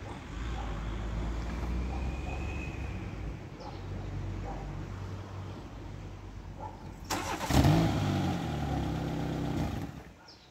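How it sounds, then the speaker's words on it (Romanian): A Dacia Logan, under exhaust repair, sits quiet with a low hum before its engine cranks and fires about seven seconds in, then settles into a steady nearby idle for the last few seconds. "Am pornit, dragii mei, mașina puțin, doar să aud motorul,"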